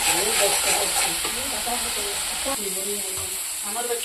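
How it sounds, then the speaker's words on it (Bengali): Garlic, green chilli, cumin, salt and turmeric fry in a pan for a dry fish curry, a continuous close sizzle with light spoon scraping and stirring. "এখন একটু ভাজা করব।"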